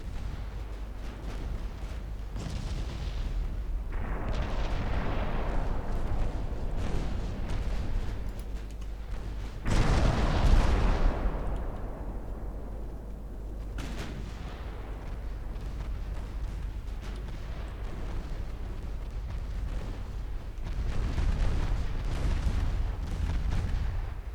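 Naval gunfire in Ultimate Admiral Dreadnoughts, main guns and 5-inch and 5.9-inch secondaries firing: a continuous rumble of deep booms with a loud burst about halfway through and another swell near the end.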